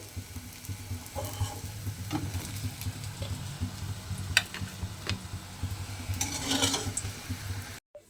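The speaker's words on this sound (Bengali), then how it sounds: "বেগুনগুলো আমার এখানে দেখুন লাল করে ভাজা হয়ে গেছে" Eggplant slices fry in a wok with a steady close sizzle, punctuated by occasional scraping clicks as the pieces are stirred and turned.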